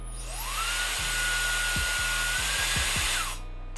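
A steady whooshing MERA Bi-ionic hair dryer hums on low with a faint tonal whine, starting and stopping with soft clicks, no voices.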